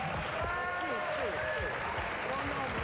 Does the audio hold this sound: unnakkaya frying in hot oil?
no